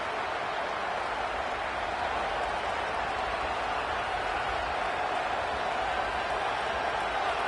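Dense, steady roar of a stadium crowd at a college football game, SMU against Florida State, a loud continuous wash of voices at full volume throughout with no break.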